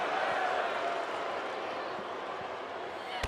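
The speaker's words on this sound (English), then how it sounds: "you guys can hear the crowd chanting women's wrestling here in Denver." Arena crowd in the WWE 2K25 wrestling video game chanting during a women's match in Denver, a steady dense roar of many voices filling the whole clip with faint thuds underneath.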